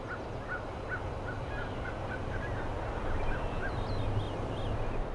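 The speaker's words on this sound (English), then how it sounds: "In the opening seconds, you actually hear a variety of birds chirping and squawking" Several birds call around an icy, snowy outdoor setting: repeated squawking, gobbling cries and brief chirps over a steady low rumble, moderately distant and fairly faint.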